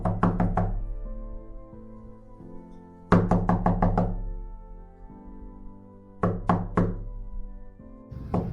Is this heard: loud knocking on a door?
yes